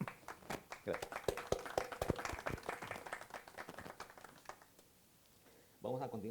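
Audience applause at a climate action panel: a burst of claps rising over the room, mixed with a speaker's voice, fading out before talk resumes at the end.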